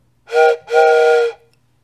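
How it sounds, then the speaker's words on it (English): Two blasts from a hand-carved wooden train whistle, a short toot then a longer hollow, breathy tone, loud and close in a quiet room. "My granddad carved this train whistle."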